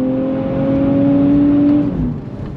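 A 2024 Nissan Z NISMO engine revs hard on throttle, a loud, close, steady rising drone that holds for about two seconds before easing off as the gear drops.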